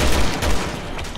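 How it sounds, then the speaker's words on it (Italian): Loud, rapid gunfire bursts in the video game Resident Evil 6, heavy booming shots in close succession over the whole moment. "Adesso gli sparo."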